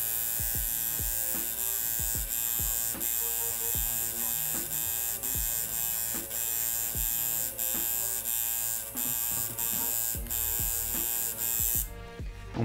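Tattoo liner machine running continuously on practice pig skin, a close, steady electric buzz with a rapid repeating pulse and regular needle strokes throughout, no talk.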